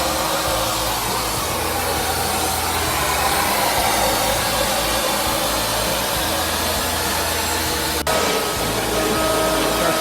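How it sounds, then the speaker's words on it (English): CNC router cutting wood for a step stool, with the dust collector running: a steady, loud whine and whoosh of motor and suction that holds continuously throughout, with one brief click near the end. "Come over here and turn on the router on 3."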